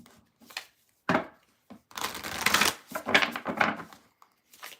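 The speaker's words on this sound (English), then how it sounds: "All right, I'm going to shuffle" Tarot cards being shuffled by hand in a reading session, several crisp riffling bursts of varying length separated by short pauses, close and fairly loud.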